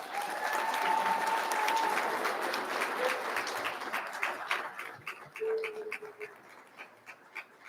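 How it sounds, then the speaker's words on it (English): Audience applause fills a school district board meeting room in honor of students, dense clapping that starts strong and gradually thins out into scattered claps. "One more round of applause for these students."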